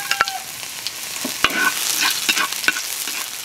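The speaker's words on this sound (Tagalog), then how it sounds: "Magigisa tayo sa bawang." Garlic sautéing in a pan, a bright, steady sizzle close by, punctuated by a few sharp utensil clicks and taps against the pan, with no talking.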